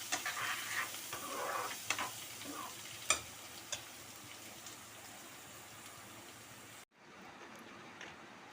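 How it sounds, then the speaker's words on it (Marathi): Onion, green chili and coriander roasting in a pan give a close, steady sizzle with scattered sharp crackles and pops, which cuts out abruptly near the end and leaves quieter hiss. "कांदा, मिरची आणि कोथिंबीर हे मी आता छान भाजून घेते"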